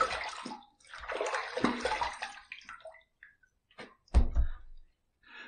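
Razor rinsed under running water between shaving passes, with splashing bursts of flowing water that stop and start, then a sharp knock and a brief final gush, close and fairly quiet.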